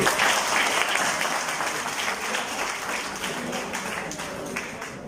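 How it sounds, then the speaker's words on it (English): A crowd applauding steadily, dense clapping that starts loud and slowly fades slightly over a few seconds. "give a round of applause for yourself"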